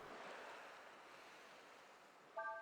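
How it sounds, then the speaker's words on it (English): Ocean waves in an area of Breath of Fire IV, a soft, steady surf wash heard faintly, with a short bright electronic tone at the very end. "this area, which is nothing but the sound of waves"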